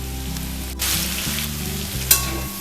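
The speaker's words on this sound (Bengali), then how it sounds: "আমাদের এটা ভাজা ভাজা হয়ে গেছে, কাঁচা যে গন্ধটা ছিল মশলার সেটা চলে গেছে" Spices with turmeric sizzle loudly in a pan for a winter olkopi achar, the frying hiss surging as a spatula stirs and ending on one sharp metallic clink.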